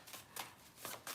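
Tarot cards being shuffled and drawn from a deck, a few quiet riffling flutters in quick succession, heard close and soft with no talk.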